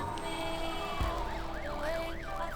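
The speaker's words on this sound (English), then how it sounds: "A siren sounds far too close for comfort." A wailing video-game siren rises and falls repeatedly over a steady electronic hum, with a low thud partway through.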